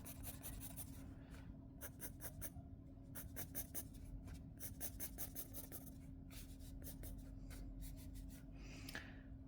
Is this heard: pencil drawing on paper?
yes